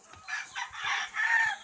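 A rooster on a game fowl farm crows in close, clear bursts, a short broken call alone against a quiet background.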